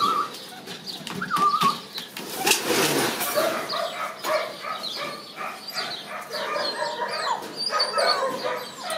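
During a hare hunt, a dog barks and yips frantically outdoors in uneven bursts at mid distance, with faint rustling and other animal sounds around it.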